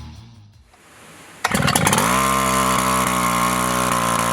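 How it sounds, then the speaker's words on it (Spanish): A Wick 375 water pump engine starting after rope pulls: a quiet stretch with faint pull noise, then the small engine catches abruptly and settles into a loud, steady, close running drone with a few sputters. "tire de la soga hasta que el motor arranque"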